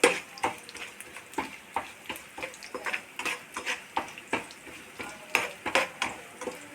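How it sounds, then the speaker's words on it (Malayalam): A handful of grated coconut roasts in a pan while being stirred, giving a steady series of quick scraping, ticking strokes over a soft sizzle, close and alone without any talk. "ഒരു പിടി നാളികേരം നമുക്ക് വറുത്തെടുക്കണം"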